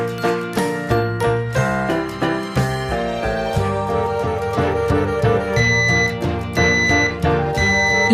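A Nest Protect smoke and carbon monoxide alarm plays bright, melodic chime tones in a loud, repeating pattern of tinkling notes, heard up close and on its own.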